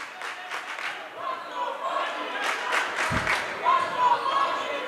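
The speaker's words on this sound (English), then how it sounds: "There's Lehi fans cheering for the traveling Vikings." Fans at a high school boys basketball game cheer and clap steadily across a gym, with sneakers and ball bounces mixed into the crowd noise and a commentator talking over it throughout.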